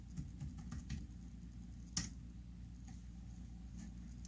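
Faint clicking keystrokes on a computer keyboard tap in an uneven rhythm, with one sharper key strike standing out, over a low steady hum.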